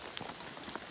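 Rain patters on a campsite during an outdoor Dutch-oven cooking attempt in southeastern Oklahoma, a faint, steady hiss of drops with a few slightly louder splats.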